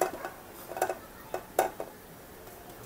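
A cooking pot is handled while making a sweet snack with banana, jackfruit, sago, sugar and vanilla, producing a few faint metallic clinks and knocks, nearby and sparse, in a quiet kitchen.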